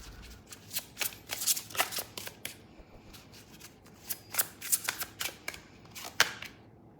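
Tarot cards being shuffled by hand, a rapid series of crisp riffling bursts and flicks in quick irregular clusters, close up with no talking.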